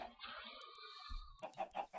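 A video game chicken gives a drawn-out squawk followed by a few short clucks, quiet and close with no speech over it.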